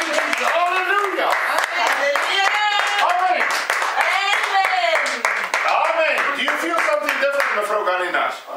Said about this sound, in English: Clap your hands, young man.